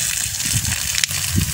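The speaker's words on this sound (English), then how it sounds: "if you want in a long distance, you press the water strongly like that" Water sprays strongly from a pressurized tank sprayer while watering a vegetable garden, a steady close hiss and gush that carries through the whole short clip.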